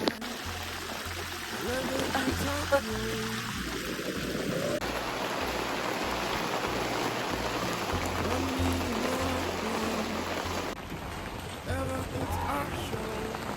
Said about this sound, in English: Oh my god, it is raining so hard.